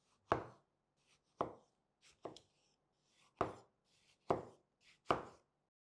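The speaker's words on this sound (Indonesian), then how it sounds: "tomatnya ini akan saya iris horizontal, tipis-tipis" A knife cuts thinly through a tomato on a board, six sharp chops at uneven intervals, each a crisp close thud separated by quiet pauses.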